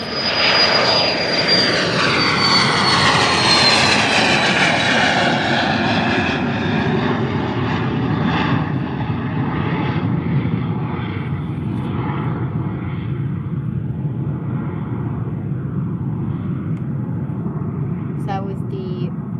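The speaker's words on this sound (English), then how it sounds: "So that was the very loud PC-24. Yeah, it took off really fast." A loud Pilatus PC-24 business jet takes off at Faro Airport, its engine roar starting close and powerful, then sweeping away and thinning steadily as it climbs into the distance.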